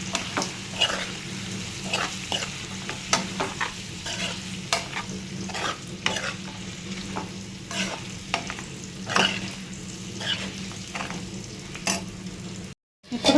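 Chicken liver curry is stirred slowly in a pan, a spoon scraping in irregular strokes over a continuous close sizzle of frying.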